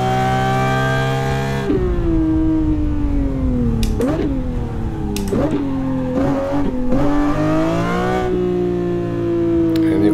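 Lamborghini Murciélago 6.5L V12 engine in the racing game Assetto Corsa, idling loud and close then revving up repeatedly in sharp bursts with falling dips between, the rough engine note holding steady near the end.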